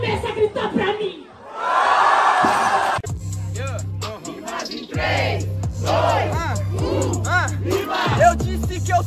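Rap battle audience shouting and cheering in a loud burst, alternating with a rapper's amplified voice and crowd chatter, with a steady beat underneath.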